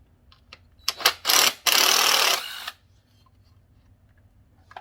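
An impact gun drives star-bit bolts on a Triumph Street Triple motorcycle during a turn-signal swap, sounding in two loud close bursts, first short and then longer, after a few small clicks and followed by quiet.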